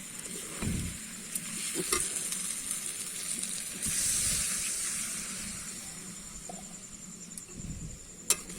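Water poured into a pan of sizzling Bengali chicken kosha, a steady frying hiss with a louder burst of steam midway and occasional scraping stirs, close and alone without talk.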